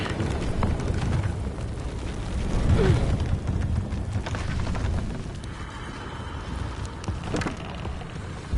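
An explosion in the video game Shadow of the Tomb Raider booms and rumbles in a dense, sustained roar that swells around the middle, followed by debris-like clatter fading into a lower hum.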